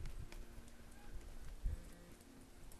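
A ridden horse moving out at a walk during spin-foundation training, its hooves giving soft, irregular low thuds close by over a steady background hum.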